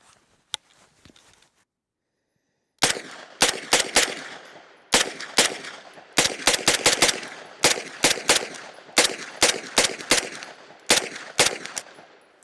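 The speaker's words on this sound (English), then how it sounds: "I've shot I don't know how many rounds through this gun" Rifle shots fired outdoors in freezing weather, a quick string of sharp, loud cracks in irregular clusters and rapid doubles after a short quiet opening, close by with no talk.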